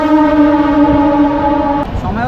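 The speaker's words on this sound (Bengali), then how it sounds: "এখন হচ্ছে মেচেদা থেকে ট্রেন ছাড়ছে।" A crowded local train on the Howrah–Digha line pulls out of Mecheda station, its horn sounding a loud sustained blast close by before cutting off, with station noise and a brief voice underneath.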